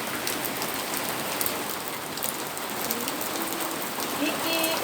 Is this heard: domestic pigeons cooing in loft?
no